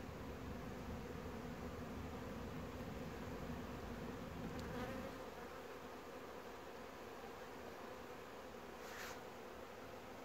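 Honey bees buzz steadily at an open hive during open feeding, a dense, continuous near drone that fills the whole stretch, with a brief thump around the middle and no talking.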